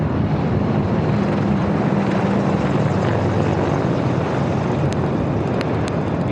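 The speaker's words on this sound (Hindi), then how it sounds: "इंडिया गेट के ठीक पास पहुंचते हुए अजय फॉर्मेशन में 3 अपाचे हेलीकॉप्टर" Three Apache helicopters fly in formation over the Republic Day parade at Kartavya Path near India Gate. Their rotors and engines make a loud, continuous, close roar that stays steady throughout, with no talk over it.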